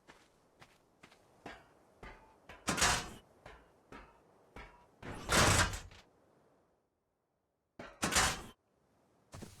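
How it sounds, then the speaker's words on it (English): A thatch door being placed and shut in Ark Survival Evolved, heard as a series of sharp wooden knocks and a few louder, fuller thuds, close and dry, ending in a short silence and one last thump. "I put a thatch door in at the front"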